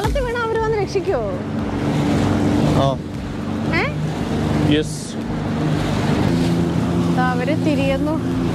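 Jet ski and boat engines drone loudly and continuously on open water at a container park waterfront in Doha, with splashing and wind; voices shout and talk over the motor noise.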